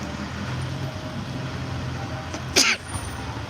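A single short sneeze bursts out over a low, steady rumble of background noise.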